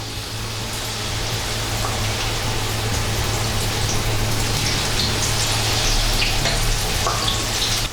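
Corn tempura batter frying in hot oil gives a steady, loud, dense crackling sizzle, like rain on a hard surface, continuing without a break and with no talking.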